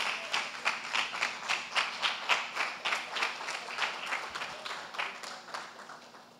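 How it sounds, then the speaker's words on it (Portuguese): A church congregation claps in unison to glorify Jesus Christ, about three steady beats per second, moderately close and sustained for several seconds before gently fading. "Fica de pé glorificando a Jesus Cristo com as tuas palmas."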